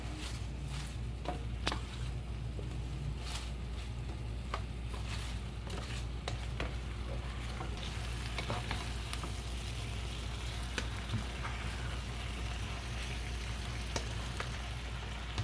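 Spinach and garlic frying in a hot pan while being stirred, a steady crackling sizzle with scattered scrapes and taps of the utensil, close and alone.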